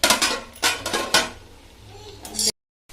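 Metal utensils clank against a cooking pot as ingredients go in with chicken and a lid is set on top: a few sharp clatters close by, then quieter scraping before a sudden cut to silence.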